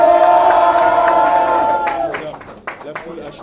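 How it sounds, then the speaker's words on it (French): A large crowd at a cruiserweight fight event roars and cheers loudly, then the noise fades into scattered shouts and claps. "Mesdames, messieurs, faites un maximum de bruit pour lui."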